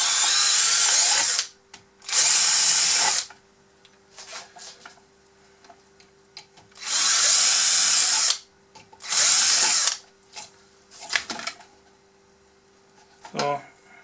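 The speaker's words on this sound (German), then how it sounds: "Dreier Bohrer nehmen, festschrauben." A power drill with a 3 mm bit whirs in several short bursts while converting a Bruder Volvo dumper toy to RC, some longer and some brief, with quiet pauses and small clicks between them, close by.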